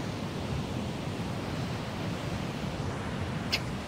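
Faint, steady wash of sea waves and surf, a continuous broadband hiss with a little wind on the microphone, with no distinct wave breaks and no voices.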